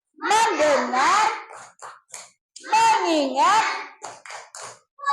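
Short bursts of group hand claps from children in a classroom, beating out the rhythm of a focus chant, alternating with loud spoken chant words from voices including a child's.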